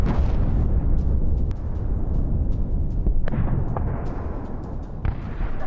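Explosions and heavy artillery-like blasts from news footage of an attack, a dense continuous roar with repeated booms and sharp cracks, loud and sustained throughout with no voices.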